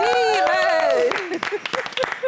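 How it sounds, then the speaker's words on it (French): A studio audience on a French-language talk show claps for an actor guest, scattered individual claps appearing as the voices fade, after a sung or drawn-out vocal opening. "L'acteur des acteurs, Kane Maoula, qu'on va applaudir."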